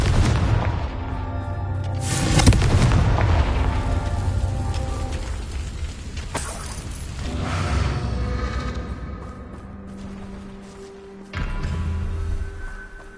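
A Confringo explosive spell in Hogwarts Legacy lands with a heavy booming blast, followed by rumbling crackle and a second thump later, loud and near with no talking.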